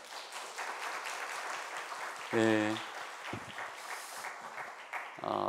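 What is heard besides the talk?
church congregation applause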